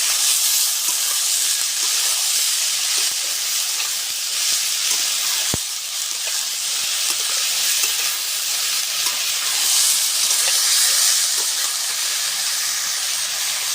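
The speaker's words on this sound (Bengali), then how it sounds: "মাটির চুলা কিন্তু এখন তো শীতের সময়, তারপরে অনেক সুন্দর জ্বলছে" Wood fire in a clay stove, in a cold winter morning, gives a steady broadband hiss and crackle, with one sharp pop partway through and no talk.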